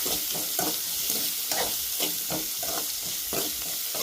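Chopped onions fry in oil with a steady, close sizzle, broken by rhythmic scraping strokes of a spatula stirring the pan about every half second.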